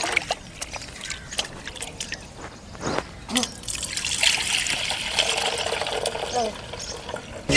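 Toor dal lentils are rinsed with water in a bowl, with trickling, dripping and sloshing sounds that swell toward the end, heard close under occasional speech.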